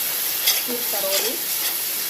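Ginger garlic paste sizzles in a hot pan while being stirred, a steady close frying hiss with a soft scrape and a brief faint tonal squeak in the middle.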